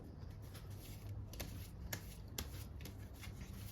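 Tarot cards are shuffled close up in a quiet room, with soft papery riffling and a few crisp flicks and taps of the deck.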